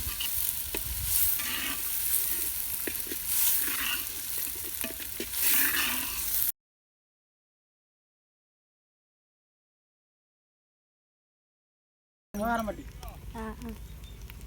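Oil sizzles and crackles steadily as beef intestine fries in its own oil in a pan for a Tamil village dish, with stirring scrapes and voices talking over it; a silent gap, then the sizzle resumes.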